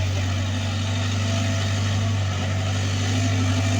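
Diesel engine of a backhoe excavator runs at a steady, unbroken drone on a construction site being levelled into a flat pad, with a heavy low hum and no talk over it.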